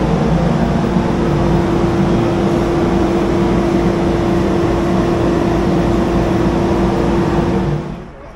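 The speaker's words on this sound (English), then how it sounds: "we're getting ready to put the Road Glide on the dyno right now and see what she does" A Harley-Davidson Road Glide running on E85 on a dyno gives a loud, steady, droning engine roar with a strong sustained hum that holds level for about eight seconds, then drops off quickly at the end.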